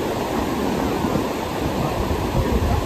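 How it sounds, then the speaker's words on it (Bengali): Sea waves at Puri beach, a dense, continuous wash of surf noise heard up close and fairly loud, without any talk over it. "ব্যাক ক্যামেরায় সমুদ্র দেখাচ্ছি।"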